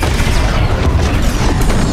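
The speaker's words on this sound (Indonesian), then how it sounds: "seorang petani terdesak yang membuatnya nekat meledakkan terowongan tersebut" Tunnel explosion in a film scene: a dense, loud, sustained rumbling blast filling the whole moment with low boom and debris noise, no voices.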